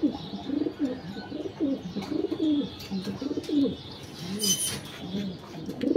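Domestic pigeons in a home loft coo repeatedly in overlapping, rhythmic phrases close by, with brief chirps and a soft flutter of wings.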